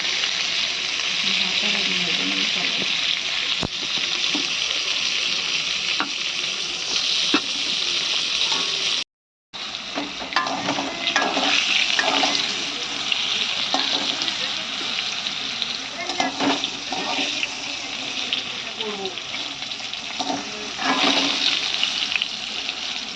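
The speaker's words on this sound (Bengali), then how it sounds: "পটলটা ভাজতে শুরু করে দিয়েছে" Pointed gourd (potol) frying in a pan, giving a steady, close, hissing sizzle that carries on with brief stirring scrapes and one short dropout partway through.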